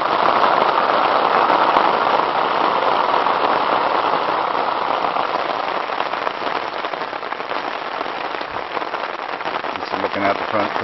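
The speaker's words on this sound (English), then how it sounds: "the rain hit." Steady, loud rain drums on a camping tarp during a morning thunderstorm in the Rocky Mountains, a dense continuous patter throughout with a few sharper drop impacts near the end.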